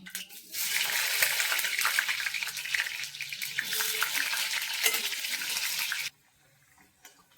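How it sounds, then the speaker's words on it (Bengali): Potatoes fry in oil for vegetarian khichuri, a bright steady sizzling hiss close by that starts after a moment and cuts off abruptly to near silence. "এবারে আলুগুলো একটু ভেজে নেব।"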